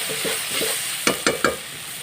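Chili powder and fried onion paste sautéing in a pan for mutton curry, with a steady sizzle and three sharp spatula scrapes near the end.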